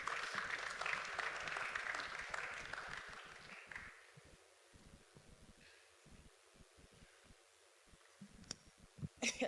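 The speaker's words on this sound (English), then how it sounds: "Let's clap for her while she comes up." Brief burst of audience applause at a data conference in Africa as a woman comes up to the stage, loud at first then fading out within a few seconds, followed by quiet rustling and a few scattered sounds.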